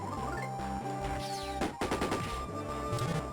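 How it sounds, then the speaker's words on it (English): A running bomb is thrown in the Mother 3 video game, bursting into a rapid crackling volley of explosive pops over the game's constant music. "Then might as well throw the running bomb."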